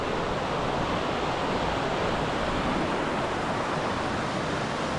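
Bear Creek on the Pacific Crest Trail rushes steadily past, a loud, even wash of flowing water with no breaks or voices.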